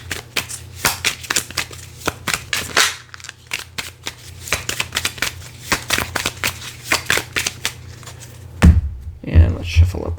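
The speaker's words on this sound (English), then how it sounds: "let's shuffle up this stack" Repeated crisp riffling of a stack of Bunny Kingdom board game cards, many quick bursts in a steady rhythm, close up, ending with a few dull thumps as the stack is tapped.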